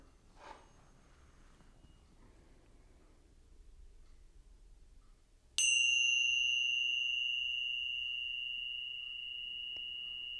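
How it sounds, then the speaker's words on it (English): A meditation bell is struck once after a quiet pause, ringing out clear and loud, then sustaining a long, pure tone that fades slowly. "So as I ring the bell"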